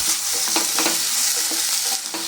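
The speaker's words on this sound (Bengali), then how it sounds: "এবার আমি এর মধ্যে টমেটো দিয়ে দেব এবং বেশ কিছুক্ষণ ধরে টমেটোটা একই সঙ্গে ভেজে নেব।" Tomatoes fry with onion, ginger and garlic in a pan for an eggplant masala curry, giving a loud, steady sizzle broken by soft scraping stirs.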